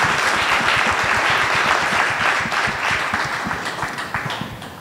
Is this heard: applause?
yes